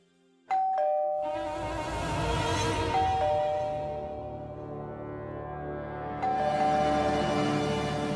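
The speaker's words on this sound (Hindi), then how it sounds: "अरे कब से डोरबेल बज रहा है" A doorbell rings in a home, its tonal chimes sounding three times, with one at the start, another about three seconds in and a third near the end, each ringing out over a sustained tonal background with no talking.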